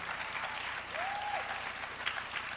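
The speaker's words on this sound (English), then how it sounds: "Clap it up 3 times" An audience at a talk on Black feminism claps in a steady, fairly faint burst of applause lasting a couple of seconds, with no voices over it.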